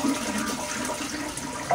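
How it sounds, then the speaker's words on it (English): A toilet that had been backed up flushes properly, giving a steady, close rushing and swirling of water that fills the whole moment without any talk. "And that's how it's supposed to flush."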